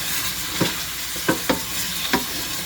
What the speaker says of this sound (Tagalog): Haloin natin.